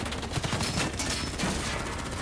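Rapid gunfire in the Call of Duty: Black Ops 3 video game, a dense fusillade of shots filling the whole stretch at steady loudness, with no speech over it.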